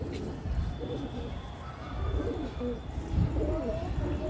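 Female Doodiya Bajra (white Bajra) Indian high-flyer pigeon from Tonk, Jaipur, cooing softly in short, low, repeated coos while someone talks nearby.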